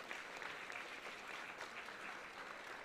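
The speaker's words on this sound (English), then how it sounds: "A round of applause for all our MPH and fellowship students." Audience applause at a university convocation for graduating students, a dense steady patter of many hands clapping continuously, fairly faint and distant in a large hall.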